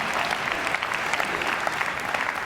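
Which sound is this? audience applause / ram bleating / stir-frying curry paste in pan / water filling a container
audience applause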